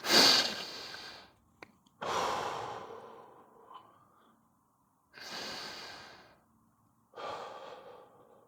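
Slow, deep breaths during a beginner yoga-style stretch, four long audible inhales and exhales with pauses between, close and clear with no talking.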